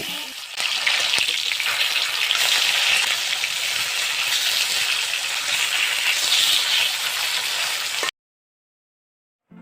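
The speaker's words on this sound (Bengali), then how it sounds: "এবার আমি একটা একটা করে মাছ উল্টে পাল্টে লাল লাল করে ভেজে নিব" Pieces of tilapia fish fry in hot oil in a wok, a loud, continuous crackling sizzle with a few faint clinks, ending abruptly in silence.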